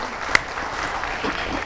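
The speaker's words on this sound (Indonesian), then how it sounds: "Baiklah, kita beri tepuk tangan." Audience applause at a community empowerment forum in Pekalongan, a steady broadband clatter of many hands clapping together for the whole stretch, with one sharp louder clap standing out near the start.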